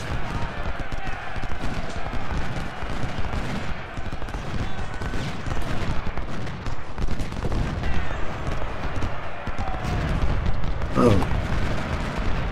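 Musket volleys and artillery fire in the Civil War strategy game Ultimate General: Civil War at the Battle of Malvern Hill, a dense continuous crackle of gunfire with scattered booms throughout.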